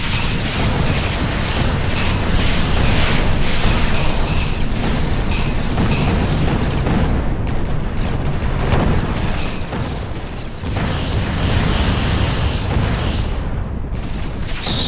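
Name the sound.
explosions of ships in the video game Sword of the Stars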